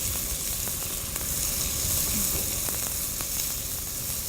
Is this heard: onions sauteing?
yes